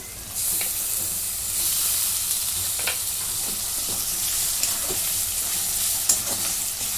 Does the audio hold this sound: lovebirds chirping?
no